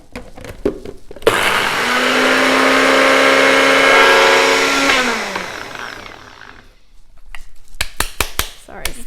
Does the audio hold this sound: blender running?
yes